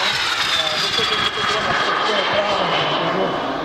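A PZL TS-11 Iskra model jet aircraft flies at a modelers' fair, its engine producing a steady, loud, continuous roar with a high whine. No clear talk is heard over it.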